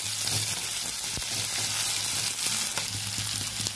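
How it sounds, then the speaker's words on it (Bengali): Small morola fish fry in oil with onion and green and dry chilies, giving a dense, continuous crackling sizzle at close range, with only a few faint stirring ticks and no voices. "এবার মাছগুলোর সাথে একসাথে ভালো করে ভেজে নেব।"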